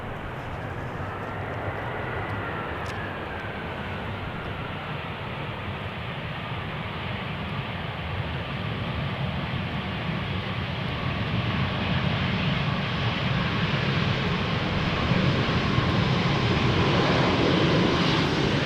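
A Croatia Airlines Airbus A320 lands at Amsterdam Schiphol on runway 18R, its jet engines a broad, steady roar that swells gradually louder over about nineteen seconds, heard from the ground with no talk.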